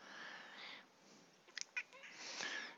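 A cat, noted as big with a hanging belly, gives drawn-out, whiny meows at close range, with a few quick clicks and taps between the cries and no talking.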